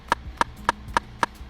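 An Afrobeats rimshot sample played in FL Studio 20 produces five sharp, tight, woody clicks at an even, quick pace, each crisp and short, with no voices.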